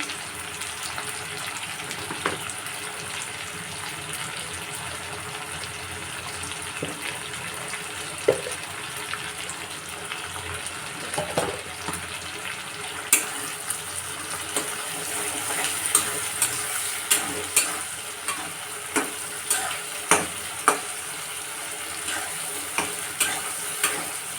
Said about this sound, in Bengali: তো মশলাটা ভাজা হয়ে গেছে